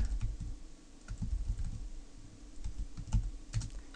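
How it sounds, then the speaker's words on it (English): Rapid typing on a computer keyboard, close and steady, with quick uneven clusters of keystrokes and short pauses. "I will type them out for you right here"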